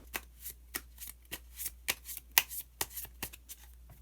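Tarot cards are shuffled by hand in quick, close, crisp bursts of riffling flicks, about a dozen sharp slaps in an uneven rhythm over a faint steady hum, with no voices.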